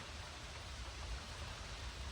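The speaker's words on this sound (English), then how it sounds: "it's raining and it's supposed to rain all day" Rain falls as a steady, faint wash of hiss with no distinct drops standing out, continuous and without voices.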